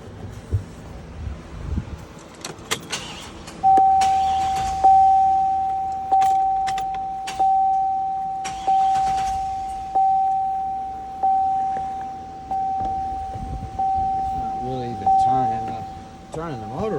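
A 408 LS stroker engine with a Magnuson 1900 supercharger in a Trailblazer SS cranks over repeatedly, a rhythmic whirring starter churn pulsing about once a second, loud and close, with some clatter beforehand.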